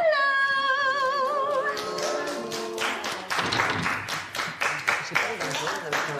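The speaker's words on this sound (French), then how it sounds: "l'enthousiasme des applaudissements que je viens d'entendre" A studio crowd at a televised talent show debrief breaks into enthusiastic applause and cheering, a sung or shouted voice at the start giving way to dense, rhythmic clapping.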